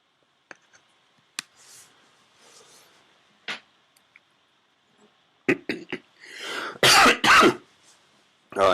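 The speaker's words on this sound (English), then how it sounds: "You say, oh, look at that, he coughed." A man coughs and clears his throat in short, harsh bursts after a hit from a one-hitter, with faint clicks and small sounds before the louder coughing near the end.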